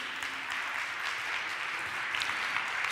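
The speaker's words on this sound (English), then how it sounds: "I think all of them deserve a round of applause" Steady audience applause at a climate change summit, a dense even wash of clapping held at constant level for the whole stretch, with no talk over it.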